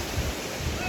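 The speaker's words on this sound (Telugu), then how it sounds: "అండ్ ఇది కొత్తపల్లి వాటర్ ఫాల్స్ అంటే." Kothapalli waterfall, running low on water outside the season, gives a steady broadband rush of falling water, close and even throughout, with some wind buffeting the microphone.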